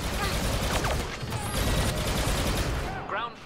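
Rapid gunfire from blasters in the Star Wars Battlefront 2 video game, loud and dense bursts of shots continuing almost without pause in a busy battle.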